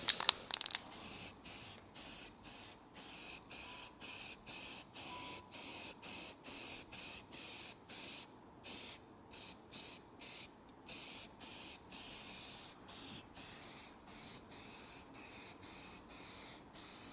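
Aerosol spray can applying a light coat of filler primer to an MGB car body, heard as a long series of short hissing bursts in steady rhythm, close and fairly loud, with no talking.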